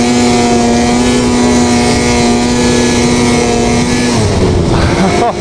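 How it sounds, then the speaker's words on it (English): A snowmobile engine revs hard at high RPM, a loud, close, sustained drone with a steady pitch that wavers and drops near the end. "At high RPMs again, we'll hit it."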